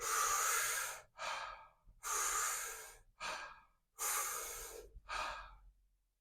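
Deep rhythmic breathing in Wim Hof breathwork: three long, forceful inhales, each followed by a shorter exhale, close and loud with no talking.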